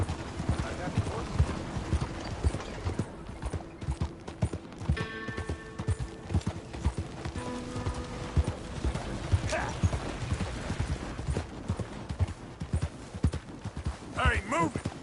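Horse hooves clip-clop in steady rhythm through the Red Dead Redemption II video game, close and continuous under game music, an occasional whinny and voices talking over it.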